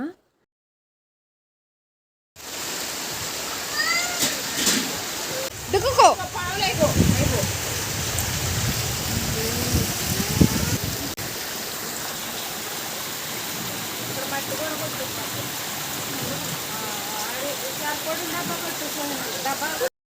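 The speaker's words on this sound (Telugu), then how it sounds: "వెంటనే అండి అసలు పెద్ద వరదలా వచ్చేసింది" Rushing, roaring flood water surges in after a short silence, loud and continuous, with some knocks and clatter early on.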